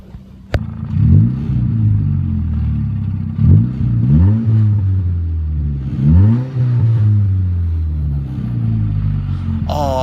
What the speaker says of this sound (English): I'm gonna end up letting this car run for a little bit